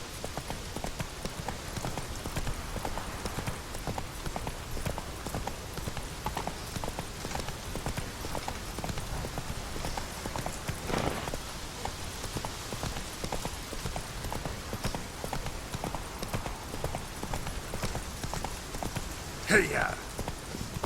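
Hooves of the horse Roach trotting in the video game The Witcher 3, a steady, rapid clip-clop that runs throughout under game sound, with a voice speaking over it.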